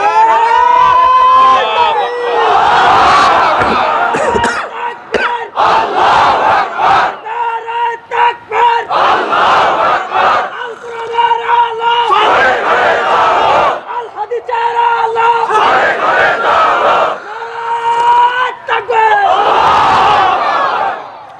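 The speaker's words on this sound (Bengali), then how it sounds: "বলমারির মতো একটা তাকবীর দিয়েছেন" A large crowd at a Bangladeshi Islamic waz gathering roars a takbir in unison, loud, sustained chanted bursts repeating across the clip with a voice leading each call.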